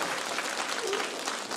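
An audience at a staged comedic parody wedding celebration claps in steady, dense applause at moderate volume that lasts the whole short moment.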